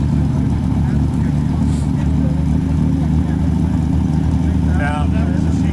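Vintage race car engines rumble and idle steadily nearby at a museum demo day, a constant low droning hum with a few brief higher whines mixed in.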